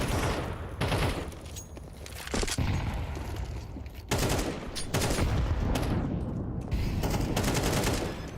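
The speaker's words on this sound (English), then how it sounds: "They're just shooting off into the smoke." Gunfire in Counter-Strike 2 during a collegiate match: loud rapid bursts of automatic fire with sharp onsets, several separate volleys packed close together.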